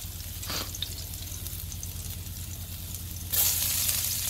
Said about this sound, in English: So I add some oil and garlic, so about 2 tablespoons of oil and some garlic.